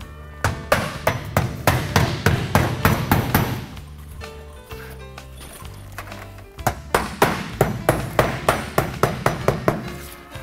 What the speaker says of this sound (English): you can take a 7-penny nail or whatever length you need to hit wood and put a nail every so often.